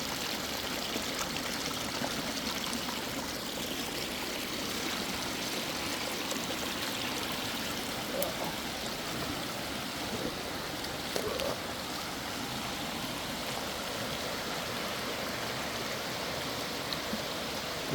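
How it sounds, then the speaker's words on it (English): A creek near an off-grid homestead cabin runs again with road runoff, a steady, even rush and trickle of flowing water heard alone and unbroken throughout. "The creek is definitely back to flowing."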